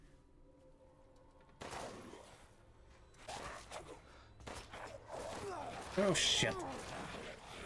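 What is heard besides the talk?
gunshot in Resident Evil Village video game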